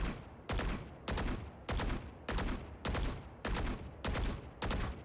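Repeated gunfire from a video game aim trainer, with bursts of shots in a regular rhythm, each about half a second long, separated by short pauses.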